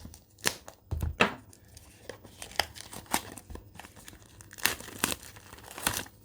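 Plastic wrap torn off trading card boxes in quick, irregular rips and crinkles, with sharp bursts separated by brief pauses and handling noise close by.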